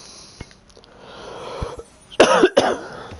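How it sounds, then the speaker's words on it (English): A person coughs in a harsh burst of two or three close, loud coughs near the end, after a stretch of quieter background sound, while gameplay from Sakura Wars runs. "I am coughing now because it is getting harder for me to breathe."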